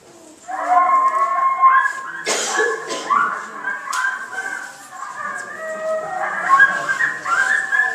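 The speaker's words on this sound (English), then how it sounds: "So how about a pack of coyotes?" A recorded pack of coyotes howls and yips together in overlapping, wavering high calls. The chorus is continuous and fairly loud for the whole stretch, broken by a brief noisy burst partway through.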